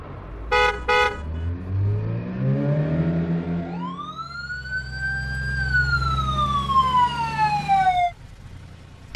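A passing car, heard nearby, with short horn toots at the start followed by a rising engine whine that holds and then falls away as it drives past.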